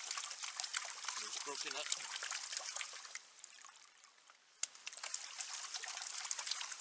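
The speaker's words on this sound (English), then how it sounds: "So I'm giving it a good rinse. Make sure all the clay is out." Water trickling and splashing as clay is rinsed from a gold prospecting pan at a forest outing, close continuous dribbling with a brief pause and someone speaking briefly.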